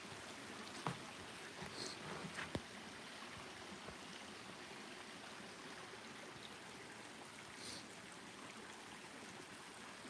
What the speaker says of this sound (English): this river here doesn't run much more than this other than in this spring